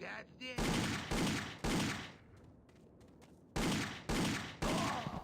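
Repeated shots from a 9mm revolver in Indiana Jones and the Infernal Machine, set in Babylon: two quick loud bangs, a pause with faint ambience, then three more sharp reports in steady rhythm, close and alone.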